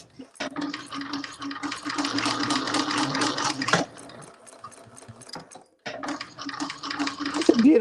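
A sewing machine runs in a studio, whirring steadily and loudly for several seconds, pausing briefly, then starting again, with faint background talk.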